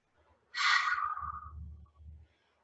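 A single slow, audible exhale through the mouth during a breathing exercise, breathy and close, fading gradually over about a second and a half in otherwise quiet surroundings.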